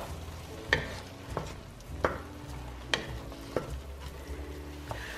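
Onions, garlic and black pepper cook in a pan with a soft, steady sizzle, broken by several distinct clanks and scrapes of a utensil stirring at irregular intervals, close by with no talk.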